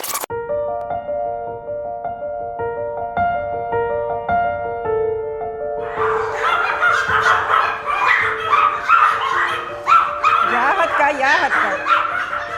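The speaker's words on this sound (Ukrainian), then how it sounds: "А це так нас зустріли у розпліднику померанських шпіців Юлії Білозерової." Pomeranian spitz dogs at a breeding kennel break into a loud, overlapping chorus of yappy barks and yips partway through, after quieter tonal sounds. Speech runs underneath.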